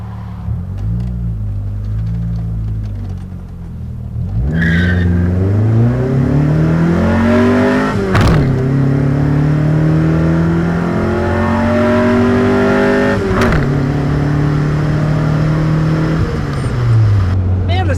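A 1999 Mitsubishi Eclipse GS Spyder accelerating from 0 to 65, heard from inside as the engine revs climb through several gears with clear shift breaks, loud and steady, with a voice talking over it.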